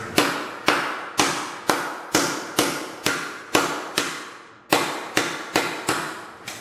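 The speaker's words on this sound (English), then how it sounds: "I'm going to use the pointy end of my polyurethane hammer" The pointed end of a polyurethane hammer strikes pedal car sheet metal in a steady series of sharp, ringing blows, about a dozen hits evenly spaced with a brief pause near the end.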